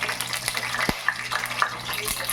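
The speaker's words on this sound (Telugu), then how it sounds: "నేను అన్నం పెట్టి ఉద్దిపప్పు ఆవాలు వేస్తున్నాను" Urad dal and mustard seeds sizzle and crackle in hot oil in a home kitchen, with a continuous close fry punctuated by sharp pops and a few faint background sounds.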